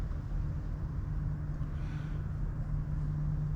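A power plant on a small lake gives off a steady low hum across the water, constant and unbroken beneath a soft, broad outdoor noise floor.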